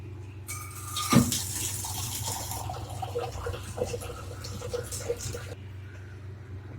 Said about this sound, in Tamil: இப்போ தண்ணி ஊற்றிட்டேன்